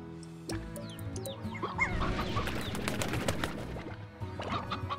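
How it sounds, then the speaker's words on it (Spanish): Chickens and a rooster in the video game Slime Rancher cluck and chatter in short bursts, several birds overlapping in a busy, fairly close game soundscape for about five seconds. "Ahí hay más gallinas y otro gallo."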